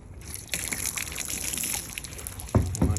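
Water running and splashing while soap is rinsed off a surface, a soft hissing trickle with a couple of sharper splashes near the end, close and alone.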